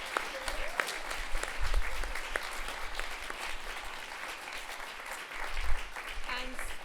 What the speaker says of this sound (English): Let's just give them one round of applause.